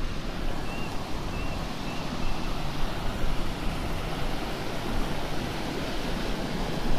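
A large, active river flows beneath the collapsed ring of a ruined railway bridge, producing a steady, dense rush of water that stays loud and even throughout, with a broad roar and some wind.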